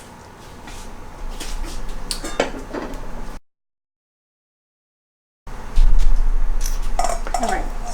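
Red chile enchilada sauce is pushed through a metal strainer with the bottom of a ladle, giving scraping clinks and metallic rubbing in two bursts separated by a short silence.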